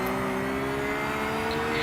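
Race car engines in the iRacing video game during the Bathurst 12 Hours, a loud, steady, sustained engine drone with a constant pitch and no talk over it.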